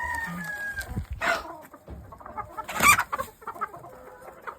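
A big hatch hen in a backyard flock clucks and calls in short bursts, fairly close, with one louder squawking cry midway and softer fowl chatter around it.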